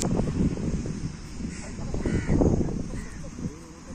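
Several crows caw repeatedly and loudly at a seashore, with overlapping calls close by while people talk in the background.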